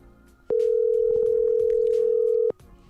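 A steady, loud telephone dial tone hums unbroken for about two seconds as a phone call is placed, with quiet background sound before and after.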